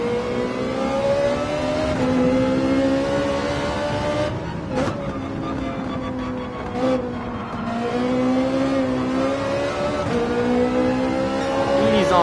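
A race car in Gran Turismo 7 laps Willow Springs, its engine roaring loudly and steadily with rising and falling revs, brief gear-change dips and tire noise, close and continuous with faint talk underneath.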